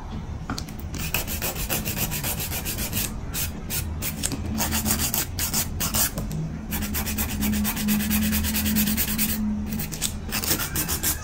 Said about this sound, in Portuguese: Dou uma limpadinha sempre aqui, ó, na borda livre, pra essa minha lixa passar certinho.